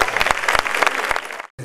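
A crowd applauds a flamenco singer at the 2014 Noches de Bajo de Guía contest final in Sanlúcar. The clapping is loud, close and dense, then cuts off abruptly near the end.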